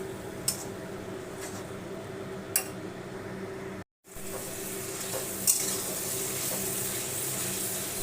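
Prawn masala with yogurt in a pan, stirred with a few sharp scrapes over a soft steady sizzle; after a brief gap the frying grows louder and brighter.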